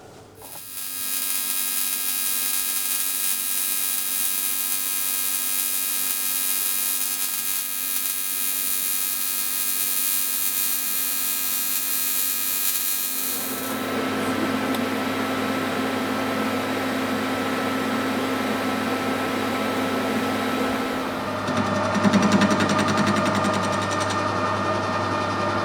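A lathe skims a welded metal part flat with a steady, loud mechanical hum and whine that holds throughout, its tone shifting partway as the cut changes, with no talk.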